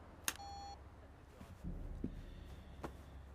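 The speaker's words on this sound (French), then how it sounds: "Merci de laisser votre message après le bip." Voicemail greeting beep: one short, clean tone near the start, followed by faint room noise and a few soft knocks.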